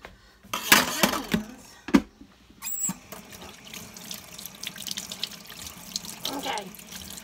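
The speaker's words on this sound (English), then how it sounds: "I'm going to have to wash my hands too." A kitchen sink tap runs while hands are washed after cooking strawberries-and-cream French toast, a steady close water rush with splashes and a few clinks, then a lighter trickle.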